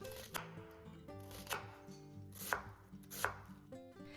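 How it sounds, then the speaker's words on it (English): A knife finely dices half an onion on a cutting board, with about five crisp, separate chops at an unhurried, uneven pace, up close and quiet. "And finely dice half of an onion."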